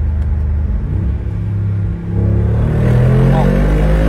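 A Mercedes G-Class accelerating hard on a straight road in Dubai, its engine a deep, loud rumble that swells and climbs in pitch as it pulls, heard from inside the vehicle.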